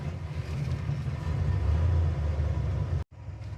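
A 1967 Chevelle L79 V8 with a lumpy cam idles close by in a steady, loud low rumble, then cuts off abruptly near the end before resuming briefly.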